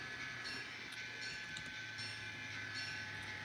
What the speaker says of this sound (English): wait for the coal train to pass